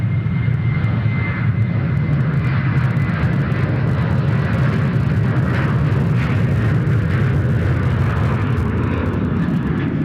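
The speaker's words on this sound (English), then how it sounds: "How's the takeoff sounds now, folks?" A Rex airliner taking off at Sydney Airport, heard from the boat ramp as a loud, steady engine roar that fills the whole stretch with a broad rumble, no voices over it.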